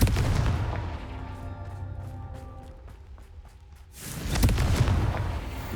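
A Confringo fire spell from the game Hogwarts Legacy bursts with a loud, booming blast and a long, crackling rumble that fades before a second heavy explosion hits.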